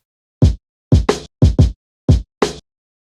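A rearranged drum loop in Ableton Live plays a short pattern of punchy kick and snare hits, seven dry, close strikes in an uneven groove with clean silence between them.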